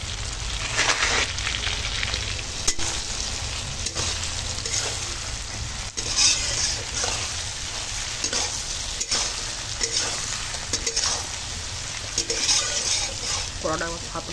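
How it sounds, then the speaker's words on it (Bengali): Egg bhujia sizzles in a wok with prawns over a village cooking fire, a steady frying hiss broken by scraping stirs and sharp clicks, with a few faint voices in the background. "এবার এই ডিম ভুজিয়া আর কড়াই দিয়ে দিলাম।"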